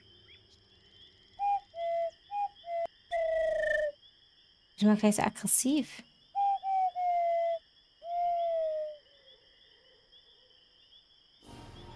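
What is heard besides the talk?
eagle owl hooting in video game Harveys neue Augen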